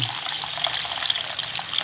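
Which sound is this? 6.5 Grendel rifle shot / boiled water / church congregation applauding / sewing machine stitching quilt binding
boiled water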